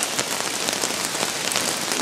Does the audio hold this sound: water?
no